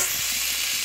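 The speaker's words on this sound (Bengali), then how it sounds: "পেঁয়াজ কুচি, মরিচ কুচি আমি দিয়েছি। এটা আমি লাল লাল করে ভেজে নেব।" Chopped onion and chili sizzle in hot oil in a wok, a steady bright frying hiss that stays loud and even through the short moment with no voices.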